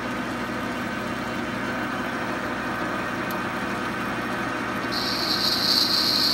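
Metal lathe turning at 220 RPM taking a boring cut with a stiffer boring bar, for a Quorn tool grinder tilting bracket: a steady mechanical hum joined near the end by a sustained high-pitched cutting whine.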